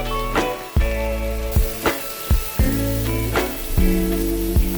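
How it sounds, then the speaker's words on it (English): Marinated pork and its marinade sizzle steadily in a pan on the stove for pan-grilled pork, a continuous close frying hiss broken by several sharp clatters of a utensil against the pan. "just bring back everything back to the pan and then put the marinade"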